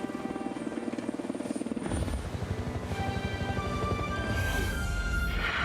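A rescue helicopter arriving over a mountain, faint whine at first, then the rotor's rhythmic thumping swells in loudly and holds steady as it nears.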